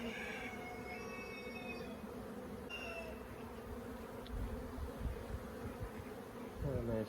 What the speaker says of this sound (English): What a nice frame of bees.